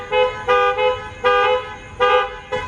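Car alarm sounding in repeated bursts of harsh, buzzy tones, about four blasts with brief gaps, loud and close, with no talk over it.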